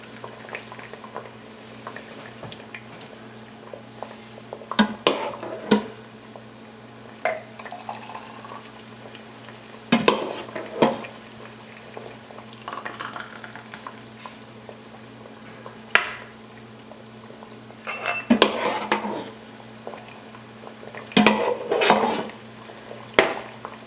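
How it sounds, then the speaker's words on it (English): Hot raspberry and Saskatoon berry jam being ladled into glass jars on a stove, with bubbling from the pot and irregular clinks and scrapes of a spoon against glass and metal, set against a steady low kitchen hum. "Basically, I'm just going to fill them up."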